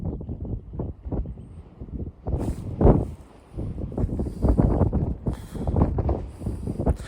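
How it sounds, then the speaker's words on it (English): Wind buffets a microphone in rough, uneven gusts, rumbling loudly then easing, with a faint hiss in the background. "suddenly it is wind gusts like crazy"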